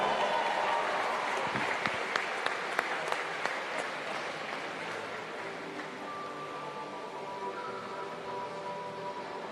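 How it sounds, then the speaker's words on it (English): Audience applause fills a pool venue during the finals of the 2023 New Zealand Swimming Championships, a steady broad wash of clapping from a large crowd with a few sharper claps standing out, fading slightly toward the end. "Give a big round of applause, ladies and gentlemen"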